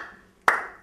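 A single sharp clap of hands in a comedy stage show, one crisp near burst following a quiet stretch, with a short ringing decay.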